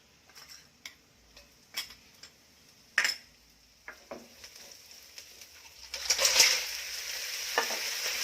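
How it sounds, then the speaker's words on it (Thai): Chili and garlic stir-fried in oil in a wok, soft sizzling under a series of sharp spatula clicks and scrapes, irregular and close, with a louder burst of frying near the end. "ผัดพริกกระเทียม"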